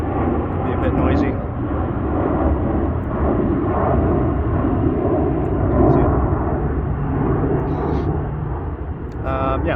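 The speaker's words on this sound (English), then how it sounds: "It's airplanes, the airport's right next to here" Aircraft engines rumble in a steady broadband drone from planes flying over close to an airport, loud and continuous throughout, with a voice speaking over the roar.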